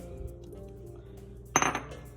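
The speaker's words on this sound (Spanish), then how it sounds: "le echamos las chispas de chocolate." Chocolate chips poured into a bowl of well-mixed cookie dough land as one short, loud burst of rattling clatter after a quiet stretch of room tone, then settle quickly.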